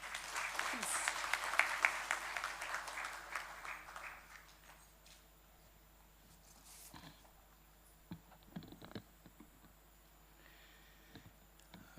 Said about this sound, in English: join me for a heartfelt round of applause for Dr.